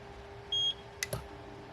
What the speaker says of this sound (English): Press the button on top until you hear a beep.